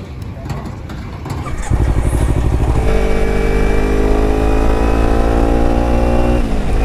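A Kawasaki ZX-10R sport motorcycle on a night ride, its loud exhaust rising from idle into a sustained hard rev that holds steady for several seconds, close and dominant.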